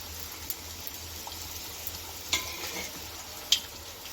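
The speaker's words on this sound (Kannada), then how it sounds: "ಪೂರಿ ಮೇಲೆ ಹೀಗೆ ಬಿಸಿ ಎಣ್ಣೆನ ಹಾಕಿದ್ರೆ ಚೆನ್ನಾಗಿ ಅರಳ್ಕೊಡುತ್ತೆ, ಉಬ್ಬುತ್ತೆ ಪೂರಿ" Puris for pani puri deep-fry in hot oil over a low flame, giving a steady, even sizzle and bubble, with two brief sharp clinks of a utensil against the pan.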